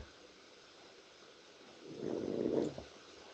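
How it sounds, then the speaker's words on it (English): A low, rough snore swells up near the end, a single loud rumbling breath over a quiet, hissy background. "how loud is Shady snoring there"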